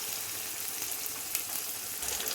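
Moringa (murungai) leaves and onions for a chutney sauté in a hot pan with a close, continuous bright sizzle that crackles evenly throughout, without any voices.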